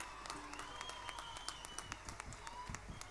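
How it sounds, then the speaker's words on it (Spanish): A crowd at an outdoor citrus festival concert applauds, scattered sharp claps heard at a distance over a faint background hum and some whistle-like tones. "Fuerte el aplauso para los chicos,"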